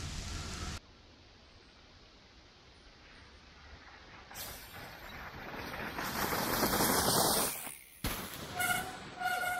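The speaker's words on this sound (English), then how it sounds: "But it's raining right now" Steady rain hisses down on a snowy backyard trail, a broadband wash that starts quiet and swells louder and denser toward the end, with a brief dropout and a few sharper bursts near the close.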